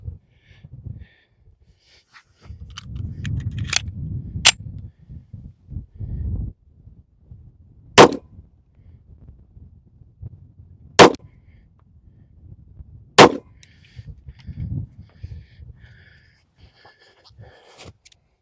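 Five sharp, loud pistol shots from a Colt Delta Elite 1911 10mm ring out at uneven intervals on an outdoor range, with rustling and handling noise between them.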